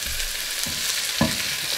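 Asparagus stir-fries in a pan with oyster sauce, giving a constant hissing sizzle with a few soft scrapes and clinks from stirring, close and fairly quiet, with no voices.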